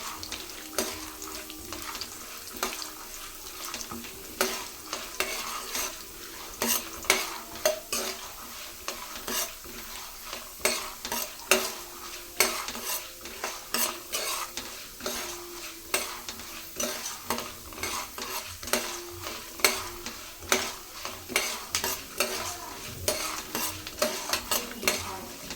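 Dried red chillies and curry leaves fry over a low flame while a spoon stirs them. Rhythmic scraping and clinks against the pan sound close, above a steady sizzle, for about twenty-five seconds.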